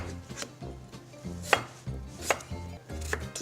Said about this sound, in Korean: 우선 절반을 자르고 반달 모양으로 해서 1cm 간격으로 넣을게요